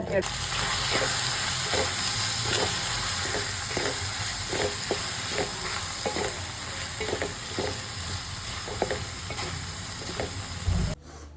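Boti pieces stir-fried with black pepper in oil, a steady loud sizzle with rhythmic scraping strokes of a spoon in the pan, ending abruptly.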